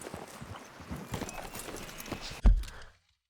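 Hooves of a male Palomino horse in Red Dead Redemption 2, a steady clip-clop of walking steps with some soft in-game ambience, ending in a louder thump before falling silent.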